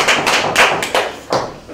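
Knuckles knock on tables as applause in a committee meeting, a close, loud series of about six dull raps in an uneven rhythm.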